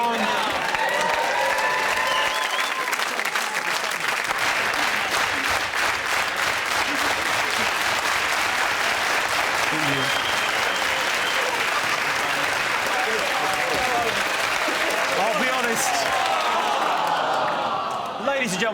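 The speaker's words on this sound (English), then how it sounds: "you started that fast clap way too soon" Comedy panel show studio audience breaking into loud, fast clapping that builds into sustained rapid applause with whoops, lasting a long stretch, with voices talking over it.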